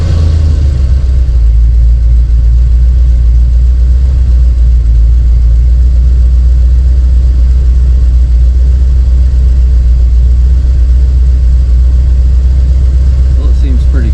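A 1976 Ford E250 van engine runs at idle, a loud, close, steady low rumble that holds unchanged for about fourteen seconds.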